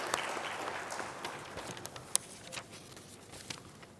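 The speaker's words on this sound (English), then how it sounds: "May I request all of you to join with me to give a big applause" Applause from the audience at an HR roundtable event in Hyderabad, scattered clapping that thins out and tapers off with a few isolated late claps.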